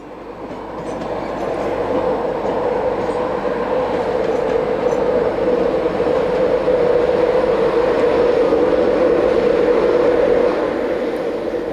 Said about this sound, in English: The Class 91s usually push their trains into King's Cross, as seen here.